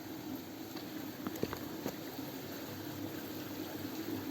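Water flows steadily beside a fishing spot, a faint, continuous trickling wash heard from a short distance with a few small splashes.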